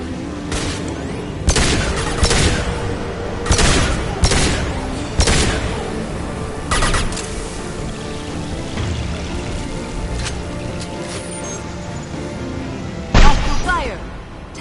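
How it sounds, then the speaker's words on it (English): Gunfire in Mass Effect 2, with sharp shots landing in irregular bursts over a dense, noisy combat background, loud and close, and a heavier blast near the end, while voices speak over parts of it. "Hostile fire. Taking cover."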